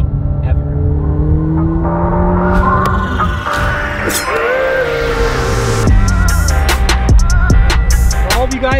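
A McLaren 720S fitted with a full Vorsteiner carbon kit being driven, its engine note rising and falling through gear changes with brief tire noise, loud and close with faint talk beneath.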